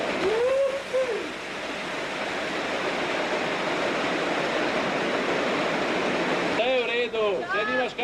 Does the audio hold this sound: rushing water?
yes